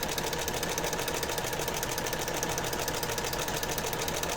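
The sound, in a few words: sewing machine stitching a fabric journal cover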